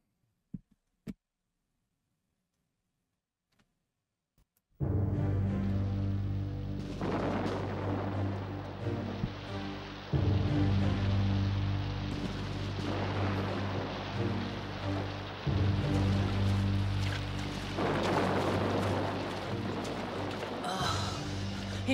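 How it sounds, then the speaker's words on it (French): Cartoon storm: after a few faint ticks in near silence, heavy rain bursts in and keeps pouring loudly, with deep thunder rumbles swelling at intervals over the downpour. "Il pleut beaucoup trop."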